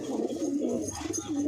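A pure white flying pigeon coos close by in soft, rolling, repeated phrases that continue steadily throughout.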